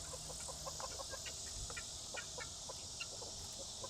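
Hens cluck softly in short, scattered calls at a backyard coop, faint and somewhat distant over a steady hiss of outdoor background noise, with no talking.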